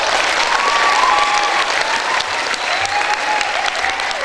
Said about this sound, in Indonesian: yang terhormat Bapak Masyhuri, tepuk tangan untuk beliau.